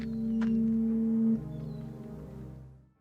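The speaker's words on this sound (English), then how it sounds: "that sound of a distant foghorn" A long, low, sustained foghorn-like tone with steady harmonics sounds for over a second, then fades into a lingering lower drone, evoking the distant horn of Twin Peaks.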